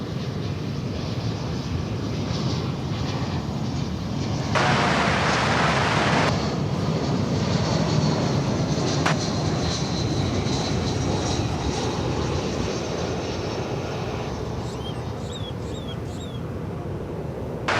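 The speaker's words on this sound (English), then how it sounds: "From Wichita, Kansas comes American Flight 1038, Airbus A319." An American Airlines Airbus A319 airliner arriving at DFW Airport, its engine roar steady and fairly loud for the whole stretch, with a brief swell of broadband noise partway through.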